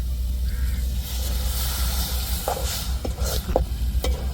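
Milk poured into a pan of jaggery and semolina with beetroot and stirred in, giving a steady wet hiss broken by several soft scraping and clinking strokes of a spoon, close by.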